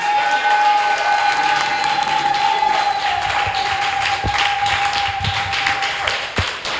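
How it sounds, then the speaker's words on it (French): A church congregation applauds the Lord during a morning service, with sustained, dense clapping from many hands under a long held instrumental note, fading slightly near the end. "Est-ce qu'on peut acclamer le Seigneur ce matin?"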